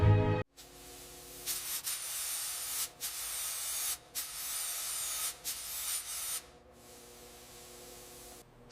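A spray gun lays a primer coat on a 1900 Georges Richard 3HP car under restoration, steady close hissing bursts with short breaks between passes and a fainter final stretch.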